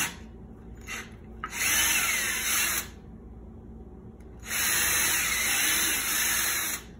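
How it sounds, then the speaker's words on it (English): An electric drill bores pilot holes into wooden boards for target stands, with two loud sustained whirring bursts of a few seconds each, separated by quieter handling noises and brief motor blips. "Take this, drill 2 holes"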